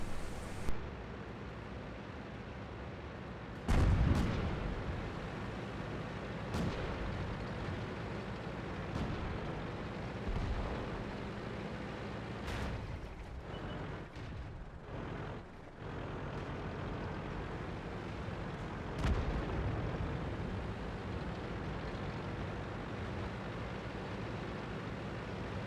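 Tank cannon fire in a World of Tanks-style battle on the Tundra map, a Luchs light tank shooting while drifting past, with sharp booms over a steady rumbling engine bed.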